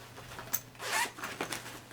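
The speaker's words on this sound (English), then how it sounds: "Then they have an open pocket over here and then a zipper pocket over here." The zipper pocket of a Wolf Pak bag is zipped in one close, quiet pull lasting under two seconds, with a brief tug at the start and the end, and no one speaking.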